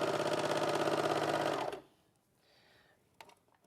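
An overlocker sewing machine stitching jersey fabric runs in a fast, rattling, steady whir close by, then stops abruptly, leaving near silence with faint handling noises.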